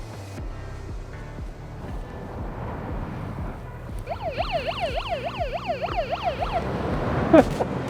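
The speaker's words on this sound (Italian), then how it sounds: "Mi presti un attimo la sirena?" Electronic siren on a surfcasting fishing trip at a rough sea, rising and falling in a rapid wailing cycle that starts midway and repeats loudly over wind and surf noise.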